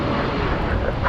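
A jet airplane taking off at night from DFW Airport, a broad, steady roar of engine noise filling the brief moment, with no clear voices over it.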